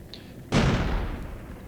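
Artillery fire in the combat flight game IL-2 Sturmovik: Battle of Stalingrad: one sudden heavy blast with a long rumbling decay, starting after a quiet stretch and filling the rest of the moment.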